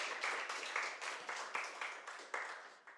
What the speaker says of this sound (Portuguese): Aplauda ao Senhor, glorifique o nome do Senhor.